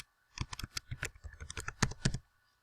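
A password is typed on a computer keyboard, about a dozen quick, close key clicks in an uneven rhythm over two seconds, alone in a quiet room.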